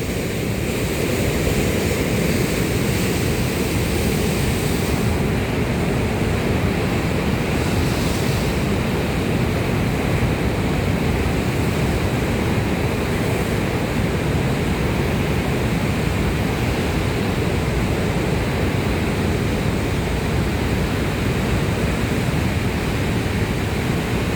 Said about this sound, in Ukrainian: А тут створюється прям такий вихр води